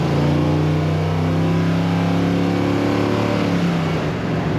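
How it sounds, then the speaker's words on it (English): A 1958 Chevrolet Apache Fleetside street rod with an automatic transmission runs its engine close by with a loud, steady, droning rumble that holds a strong tone and rises slightly. "it sounds like an amazing street machine and has excellent acceleration"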